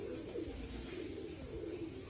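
A pigeon coos in low, repeated throaty rolls, close and fairly steady over a quiet background with no talking.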